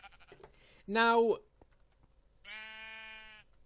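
Sheep in Minecraft bleat twice, a short wavering call followed by a longer steady one, close and clear, amid keyboard and mouse clicks and a brief spoken word.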